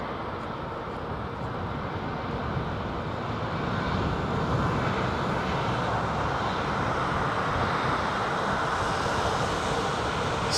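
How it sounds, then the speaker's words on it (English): An Emirates Airbus A380 lands at London Heathrow with a loud, steady jet roar that swells gradually and holds without a break. "Emirates 380, number 3 to land"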